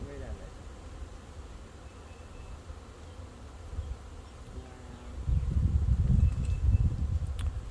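A honeybee swarm buzzes steadily in the background while moving into a swarm trap, the hum swelling louder toward the end, with low rumbling and voices murmuring at times.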